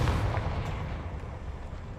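A Confringo fire spell blasting in Hogwarts Legacy: a heavy, booming burst that rumbles loudly at first and then decays into a low roar over a couple of seconds, with no talk.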